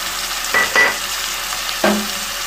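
Onion, tomato and green chilies frying in a pan for a black chana curry, with a steady sizzle under a few short stirring scrapes; no voices.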